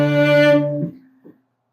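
A cello plays a short bowed run from Bréval's Sonata in C: a held note, two quick notes and a final note, close and clear, ending in a soft decay.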